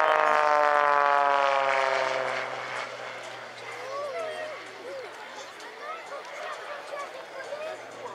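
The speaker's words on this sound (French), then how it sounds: "Cet avion s'appelle un Extra." An Extra 332 aerobatic propeller airplane drones loudly overhead at an air show, its engine pitch sliding as it passes, then gives way to a busy outdoor crowd murmur.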